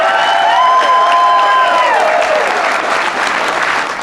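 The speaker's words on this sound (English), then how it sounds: "Please give him another round of applause." Loud crowd applause and cheering roars continuously, with a few whoops rising above the clapping before it gradually eases.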